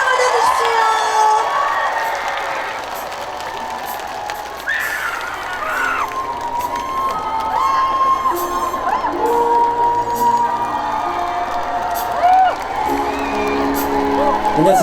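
A crowd at an outdoor culture and arts festival concert in Angang cheers, whoops and shouts to welcome a singer, a loud, sustained roar lasting the whole stretch.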